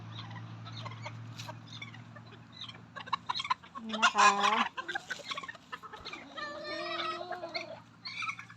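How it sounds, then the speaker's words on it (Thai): Clucking and short calls from bantam or fighting-cock chickens kept apart from one another, rising in two bursts midway and near the end, with someone talking throughout and a low steady hum underneath. "ไม่รู้ว่าน้องเป็นไก่แจ้หรือไก่ชนนะคะ"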